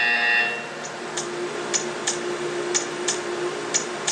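A buzzer sounds in the Portal 2 video game, a short electronic tone at the start followed by a run of quiet, evenly spaced ticks against a soft background hum.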